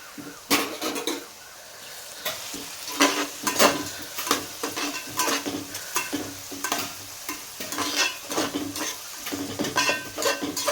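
Green chillies and onions fry in oil with spice for a fish curry, a steady sizzle broken by repeated scraping stirs and clatters against the pan, close and without voices.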